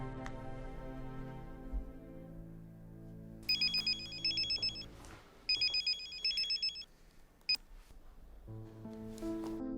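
A telephone rings in short, bright electronic bursts: two longer rings and then a brief chirp, heard over soft background music in an indoor drama scene. No one speaks.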